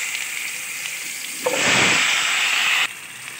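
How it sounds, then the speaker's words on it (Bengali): Sliced potatoes dropped into hot oil with cumin seeds, a soft sizzle swelling into a loud, bright hissing fry that cuts off sharply, then quieter background frying, no voices. "এবারে এতে আমি কেটে রাখা আলুগুলো ভেজে নেব হালকা করে"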